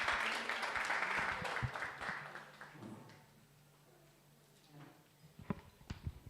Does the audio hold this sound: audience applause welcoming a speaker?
yes